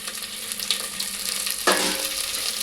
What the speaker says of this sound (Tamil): இது நல்லா வதக்கட்டும்.